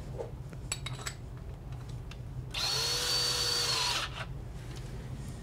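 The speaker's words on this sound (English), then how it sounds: "we're going to drill the control tubing hole" A power drill with a 1/2 inch bit whines steadily for about a second and a half, drilling a hole for a kick pedal's control tubing, close by, with quiet handling clicks before and after.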